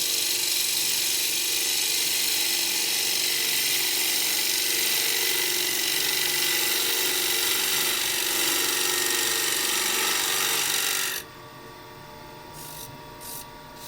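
A 10 mm spindle gouge cutting into a spinning wooden box blank on a lathe gives a loud, steady broadband hiss and whir that runs unbroken for about eleven seconds, then cuts off sharply to a quieter motor hum with a few faint taps.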